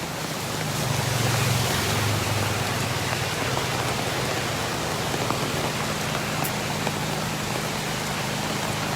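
Heavy rain pours on the flooded Jalan Kolonel Wahid Udin street in Sekayu. The downpour makes a dense, steady hiss that holds at an even level throughout, with a faint low hum underneath and no voices.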